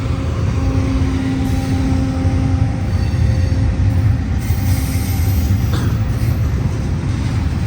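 Union Pacific ZG2OAB intermodal freight train from Chicago to the Port of Oakland, passing close on the Coast Subdivision in Oakland, California: a steady loud rumble of railcars and wheels with faint squeals and no talk.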